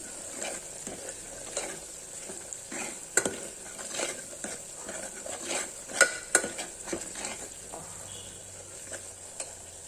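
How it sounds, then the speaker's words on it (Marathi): Onion garlic masala for a spicy Kolhapuri misal sautés in oil with a soft sizzle under frequent sharp clinks and scrapes of a spoon against the pan, irregular and fairly quiet, with no speech. "आता याला तेल सुटेपर्यंत आपल्याला परतून घ्यायचं आहे"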